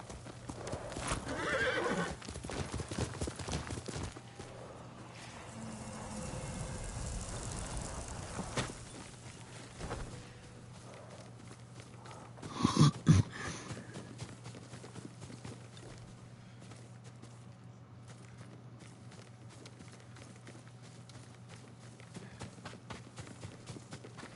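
Faint hoofbeats clop along under a steady low hum in the video game Ghost of Tsushima, then a horse whinnies once briefly, followed by quieter rustling ambience.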